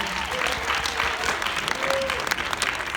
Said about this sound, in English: Please give a big round of applause for yourself.